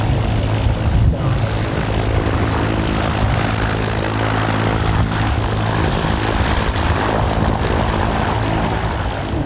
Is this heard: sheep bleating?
no